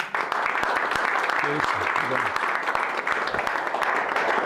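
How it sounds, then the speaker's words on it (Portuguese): Lecture audience applauding at a church history talk: dense, continuous clapping from a crowd fills the whole stretch at an even loudness, with a voice briefly audible beneath it. "Uma salva de palmas de novo."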